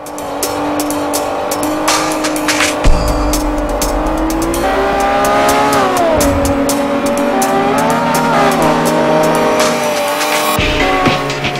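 Lamborghini Aventador racing in the Forza 4 video game, with a loud, steady engine drone shifting pitch through revs, tire squeals and skids, and sharp clicks scattered across it, with no voices.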